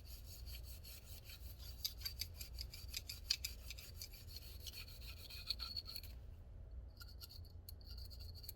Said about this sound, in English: push it from your chamber end all the way through your barrel and scrub the inside of your barrel